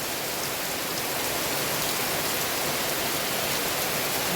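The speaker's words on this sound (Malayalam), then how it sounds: "കാറ്റും മഴയും" Heavy rain driven by wind pours down steadily, a dense, loud, unbroken hiss of water hitting surfaces close by, with no one talking.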